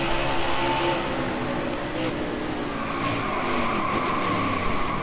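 A NASCAR stock car roars around a racing game track, its engine a loud continuous drone with shifting pitch and a faint tire squeal, steady throughout with no pauses.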